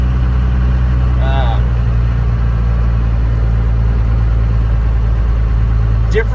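A first-generation Cummins diesel pickup truck engine idles slightly high with an old lift pump fitted, a loud, steady low rumble that continues throughout with someone talking over it.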